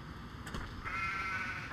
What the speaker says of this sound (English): no, we can't eat the sheep